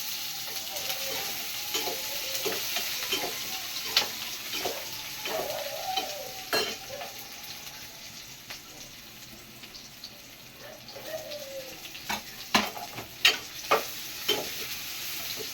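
Curry leaves, onion and tomato fry in a pan for a raw banana kola urundai kuzhambu, giving a soft steady sizzle with scattered pops and stirring clinks. The cooking sounds come up close and no one talks over them.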